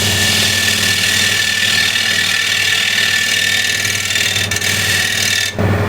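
Woodturning on a lathe with a 10mm spindle gouge: a loud, steady whirring motor hum with a constant scraping hiss of the cut, stopping abruptly near the end.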